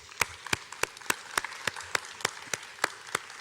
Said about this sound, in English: I would like them to give them a big applause.